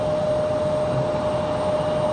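A jet airliner on final approach to runway 23 right at Raleigh-Durham International, a steady broadband engine roar with a faint tonal whine, continuous and even throughout, with no voices.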